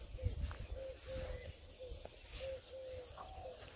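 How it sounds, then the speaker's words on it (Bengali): Repeated soft cooing bird calls at a steady pace, with faint high chirps from birds farther off over a quiet outdoor background. "যে পাখির ডাক শোনা যায়।"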